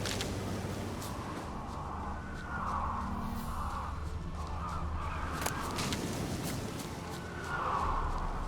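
Ravens caw in the Witcher 3 video game, a few harsh calls repeating now and then over a steady, low outdoor ambience and wind.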